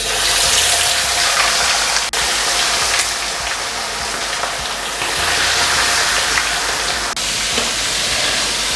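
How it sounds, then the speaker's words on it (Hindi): Marinated red chicken boti fries in a pan with a loud, continuous broadband sizzle and hiss that stays close and even, with only slight dips in level. "और अब मैं इसे फ्राई कर लूँगी।"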